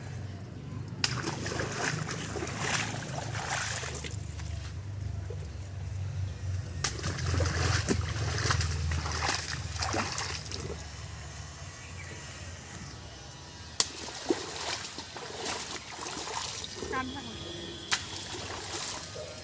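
Water trickles and splashes off freshly washed taro as it drains, a soft intermittent sloshing with occasional louder drips and clatters, fairly close and alone.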